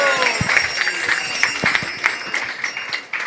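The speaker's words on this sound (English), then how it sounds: "So give them a really loud hand of applause." Applause from an audience at a Sydney temple gathering, a dense wash of many hands clapping steadily and fairly loud throughout, with a few sharper, closer claps standing out.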